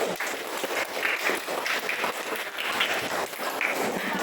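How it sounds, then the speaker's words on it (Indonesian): Classroom applause as Indonesian schoolchildren clap together during a lesson, a brisk, uneven patter of many small hands at moderate distance, rising and dipping without any voice over it. "Tepuk tangan dulu."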